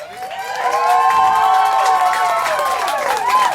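Audience at a 2025 school production of the play Our Town applauds and cheers the cast, a loud sustained mix of clapping, whoops and shouting voices filling the room.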